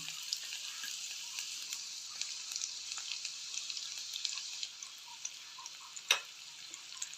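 Butter and garlic fry in a kadhai with a steady close sizzle and faint crackling ticks, a sharper clink near the end and no voices.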